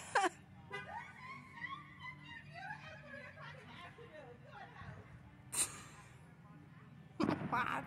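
A dog whines and moans in rising and falling pitches, fairly close, with a few sharp noises breaking in near the end.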